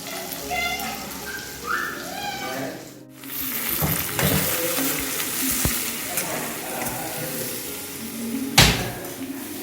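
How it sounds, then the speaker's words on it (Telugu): Bitter gourd pieces frying in a pan give a continuous crackling sizzle, with a brief voice and some kitchen clatter early on. A utensil stirs and knocks against the pan, including one sharp bang near the end. "ఫస్ట్ కాకరకాయ అంతా మంచిగా ఫ్రై అవ్వాలా?"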